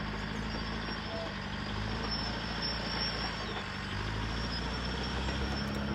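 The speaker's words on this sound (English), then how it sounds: "you guys hear the noise in the background? Yeah, it's a tractor back there somewhere" A tractor working somewhere in the distance produces a steady, continuous low engine drone with broad rumbling noise that holds at an even level throughout, with no other distinct sounds standing out.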